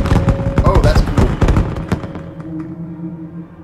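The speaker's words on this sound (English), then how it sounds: "Bunch of fireworks. And they're all over the place." Fireworks burst in Fallout: New Vegas, a rapid volley of loud, overlapping pops and thuds that crackle densely and then thin out into scattered, fainter bangs, with a voice faintly under the blasts.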